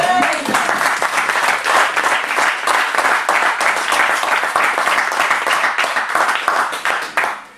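A church congregation bursts into loud, sustained applause, dense and close, holding steady for several seconds before tapering off at the end.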